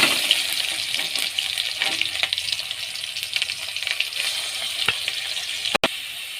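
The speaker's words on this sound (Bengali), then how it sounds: "এই যে এটা ভাজা হচ্ছে।" Green chilli and black cumin (nigella seeds) fry in hot oil in a pan with a steady, close sizzle and a few faint clinks.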